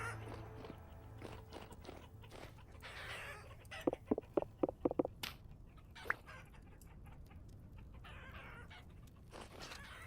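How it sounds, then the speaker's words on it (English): Roosters in the Vintage Story video game cluck in a quick run of short, sharp calls mid-clip, set against soft crunching and shuffling movement sounds with no talking. "there's a couple roosters in there, isn't there?"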